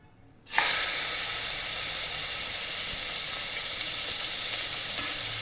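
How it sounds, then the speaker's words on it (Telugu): Pieces of mutton hit hot oil and break into a loud, steady sizzle that starts abruptly and holds evenly for several seconds, close up with no talking. "మటన్ వేసేసుకుంటున్నాను మటన్ ఆయిల్లో వేసుకున్నాను"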